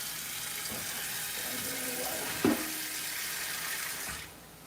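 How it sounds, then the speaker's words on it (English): Water being strained off for a plant-based lasagna, a steady rushing pour into a sink with a brief clunk partway, then cutting off near the end. "We strain it off. Make sure all the water is out"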